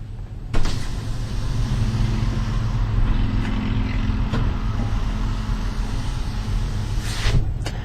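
The powered rear window of a 2011 Toyota Tundra Limited Lucchese Edition running, a steady motor whir over a low engine hum inside the cab, with clicks at the start and finish.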